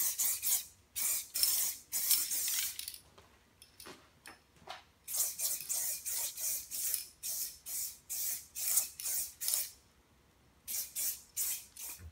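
Bursts of fine mist spraying Sonax Wheel Rim Shield onto a car wheel, a long string of close, hissing sprays separated by short pauses, with no talking.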